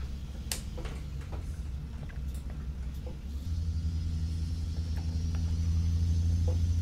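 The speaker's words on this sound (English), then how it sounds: "I can hear that two-stage fan kick on" A Cat 3406E truck engine in American Truck Simulator, with its two-speed engine fan kicking on partway through. A steady diesel rumble deepens and grows louder as the fan engages, with a few light clicks and ticks over it.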